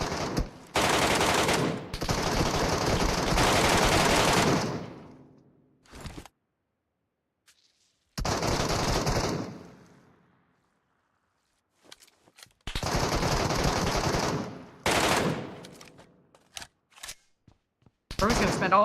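Long automatic gunfire bursts in PUBG Mobile on the Metro Uprising map, loud and close, coming in several sustained volleys separated by silent gaps, with a few short scattered shots near the end.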